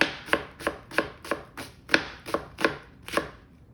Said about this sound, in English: you cut the onion and then you want to separate it all out